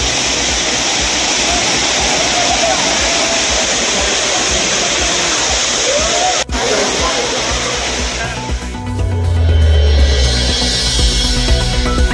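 The Courtallam main waterfall roars as a loud, steady rush of falling water. Near the end it gives way to a low rumbling sound.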